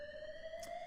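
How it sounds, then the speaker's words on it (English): An alarm blares with a steady electronic buzzing tone, sustained and loud for under a second with a slight burst of brightness near the end. "This alarm is meant to tell you that all of that is now over."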